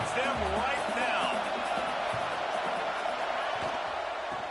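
A steady, roaring stadium crowd fills a college football video game matchup of Tennessee at LSU, a dense wash of cheering noise with a commentator talking over it.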